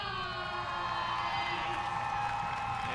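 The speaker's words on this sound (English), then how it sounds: "the Tides, as a collective unit, letting out a roar of relief along with the crowd" A stadium crowd roars after a Halifax Tides goal in a Northern Super League women's soccer match against Ottawa Rapid, a sustained, dense wall of cheering and shouting that holds steady for the whole stretch.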